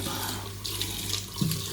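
Tap water runs steadily into a sink during a quick face wash, a close, continuous hiss and splash with small shifts as hands move through the stream.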